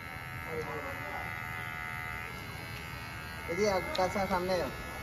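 Electric hair clipper cutting hair at a barbershop, a steady close buzz running throughout while someone talks over it.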